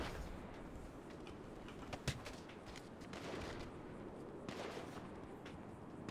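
Sustained gunfire from a gun in GTA V, a steady dense barrage with several sharper, louder shots standing out, continuing without a break.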